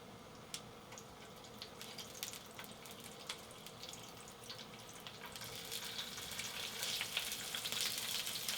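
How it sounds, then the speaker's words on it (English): Sesame seeds frying in a pan, giving a soft continuous sizzle dotted with scattered small pops and crackles that grow a little busier toward the end, quiet and close with no talk. "The popping sound you hear is from the sesame seeds."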